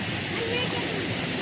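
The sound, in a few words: water gushing out at high speed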